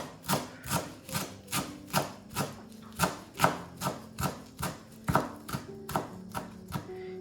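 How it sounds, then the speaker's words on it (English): A knife chopping parsley on a board in a home kitchen, a steady run of about a dozen evenly spaced crisp thuds, close and fairly quiet, with no talking. "And now I'm gonna just chop those parsley."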